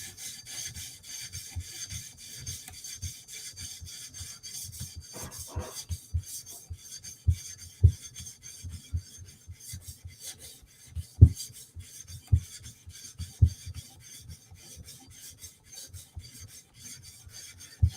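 Knife bevel worked back and forth on a 400 grit whetstone, a long run of steady rhythmic scraping strokes, close and even, with a few sharper knocks partway through.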